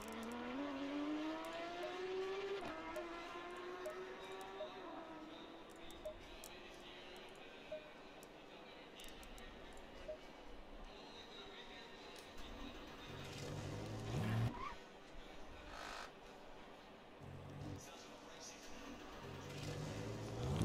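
Race car engine in Assetto Corsa Competizione during an RCI Cup pre-qualifying session on cold tyres, a steady droning whine that rises and falls with shifts, running continuously under occasional talk.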